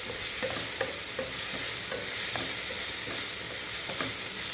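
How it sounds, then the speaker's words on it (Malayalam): Tomato and onion sautéing in a pan for a Kerala-style fish curry, a steady close sizzle broken by repeated scrapes of the stirring spoon, with no voices. "തക്കാളി സവാളയും കൂടി ഞാൻ ഇത്രയും വഴറ്റിയാൽ മതി എനിക്ക്."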